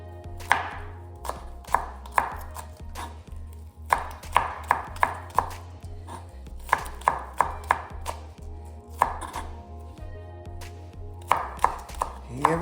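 A knife chops green onions on a cutting board for Jamaican-style oxtail, with quick bursts of sharp, close knocks and brief pauses between runs and no talk.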